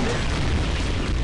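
A boss in The World II mobile action game drops a bomb, producing a loud, dense boom that rumbles continuously through the whole moment, heavy in low end.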